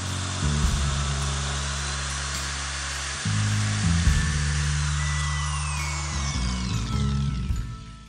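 A power drill bores steadily through a plastic bottle, its motor whining in a continuous high drone with brief pauses and pitch shifts as the bit works through. It sounds close and loud, with no talking.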